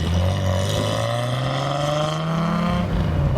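Datsun 240Z classic car accelerating, its engine note climbing steadily in pitch with a loud, close mechanical drone and body panel buzz, then dropping off near the end.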